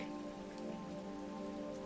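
Steady rain falls on a surface as a dense, even hiss of drops with a faint low hum beneath it. The sound is soft and continuous, and no one speaks.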